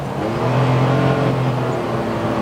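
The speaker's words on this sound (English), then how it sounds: "Yes, the engine has noise, but it's quick." Small Daihatsu Mira e:S hatchback engine revving steadily, heard from inside the car as a continuous loud whir and drone with no talk.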